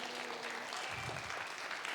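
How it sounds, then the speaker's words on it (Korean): Congregation in a Korean church clapping during a Sunday afternoon praise service, a quiet, even patter of many hands heard from a distance for a couple of seconds. "박수 한번 쳐주십시오."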